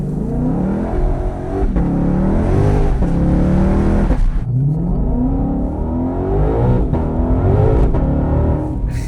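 An 815-horsepower Ford Mustang GTD accelerating hard, its engine roaring loudly and steadily from inside the car, rising in pitch through gears with brief dips at shifts.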